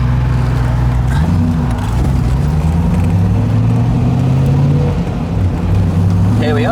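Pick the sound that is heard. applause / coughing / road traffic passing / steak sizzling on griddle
road traffic passing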